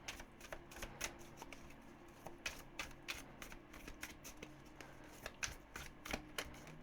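Tarot cards being shuffled by hand, a steady run of crisp riffling flicks and soft slaps repeating in quick irregular bursts, close and fairly quiet with no talking.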